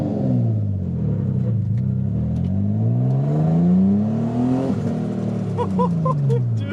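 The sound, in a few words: Nissan G35 engine revving while accelerating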